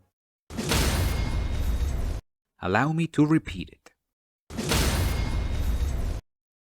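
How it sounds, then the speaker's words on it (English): Two identical bursts of a harsh, noisy whoosh-like impact, the Elden Ring stance-break or parry sound cue, each lasting under two seconds, separated by a short stretch of someone talking. "the sound cue when you break an enemy's stance or you get a parry"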